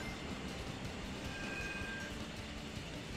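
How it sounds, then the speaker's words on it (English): Trains passing in the GameCube video game Sonic Heroes, a steady rail rumble with a thin metallic squeal rising briefly in the middle, dense and continuous throughout. "Okay, so there are trains now here."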